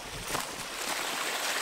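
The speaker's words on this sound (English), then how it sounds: "Well, mini waterfall." A small waterfall beside a hiking trail at Troxell Point, a steady broadband rush of falling water, fairly close and continuous throughout.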